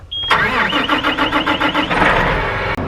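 A tractor engine cranks with a rapid rhythmic churning for about a second and a half, then catches and settles into a steady running rumble, loud and close with no talking.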